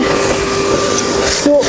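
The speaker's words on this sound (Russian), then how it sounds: "Потом беру пылесос и со штробы" A vacuum cleaner clearing debris out of a wall chase cut for heating pipes, a steady loud whirring drone held throughout, with a voice briefly heard near the end.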